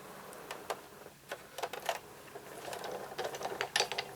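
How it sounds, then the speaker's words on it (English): A Big Shot die-cutting machine being hand-cranked, giving off a run of quick, light mechanical clicks and ratcheting ticks, close by and fairly quiet, with no voice over it. "I'll bring my big shot up"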